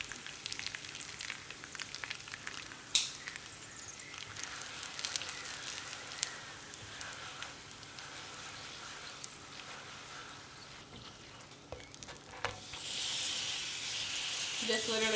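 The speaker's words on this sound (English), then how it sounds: "A little bit of oil on my pan. I got it nice and hot. Now we're gonna go ahead and crisp these up." Pieces of rotisserie chicken crisping in hot oil in a pan give off a steady, moderate sizzle with scattered crackles, swelling into a brighter, louder hiss near the end.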